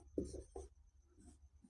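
Handwriting during a Class 10 maths lesson on polynomials: two quick scratchy strokes close by, then a fainter scrape, all over a quiet room with no speech.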